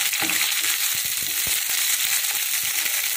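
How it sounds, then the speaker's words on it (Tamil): Onions and green chillies sautéing over high heat in a pan, a dense continuous loud sizzle with faint crackles and stirring scrapes throughout. "நல்லா ஹையில் வச்சு வதக்கலாம்"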